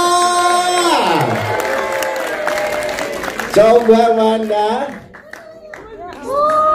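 At a film press conference, music with sliding tones plays while a crowd claps and cheers. A voice briefly speaks over it.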